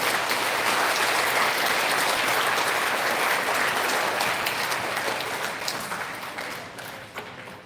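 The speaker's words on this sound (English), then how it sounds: "Big round of applause for our STEM recipients." An audience at an elementary school recognition ceremony claps steadily and loudly, the applause holding for several seconds before gradually thinning out and fading at the end.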